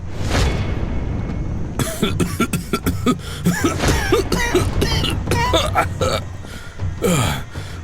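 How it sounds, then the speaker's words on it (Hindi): An animated king is seized by a sudden fit of loud coughing after eating a few bites of food, with harsh repeated coughs and throaty choking bursts in a rapid irregular series, close and forceful. "उन्हें एकदम से जोर जोर से खांसी आनी शुरू हो जाती है"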